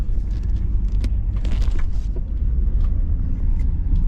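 A Jeep WJ on slightly larger tires drives with its tires rubbing underneath, making a steady, loud, close low rumble broken by scattered light knocks and scrapes, with no one talking.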